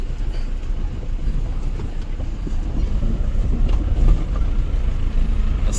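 Steady low engine rumble of a car on the move, with road noise and buffeting wind filling the whole stretch.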